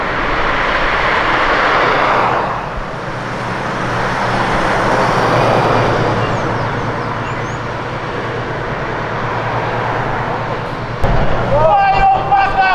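A car said to have 400 horsepower roars loudly and steadily, dipping briefly and then building again, with voices present and a sharper tonal noise entering near the end.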